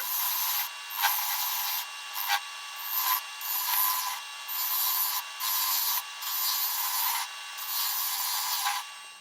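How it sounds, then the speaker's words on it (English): Sandpaper rubs over a small wooden cribbage peg to smooth and taper it, giving a string of brisk, hissy strokes with short pauses between them, close up and without speech. "I'm going to sand and smooth this down and taper it"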